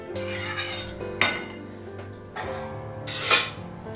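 A metal lid goes onto a cooking pot in a home kitchen with a sharp clatter, followed by a few lighter clinks and scrapes of metal on metal, close and fairly loud with no talking.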